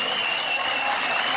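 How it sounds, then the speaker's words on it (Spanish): An audience applauds at the awards ceremony of a 21 km university race in Cancún, with a dense, steady clapping that fills the whole moment. "Fuerte aplauso para Bernard"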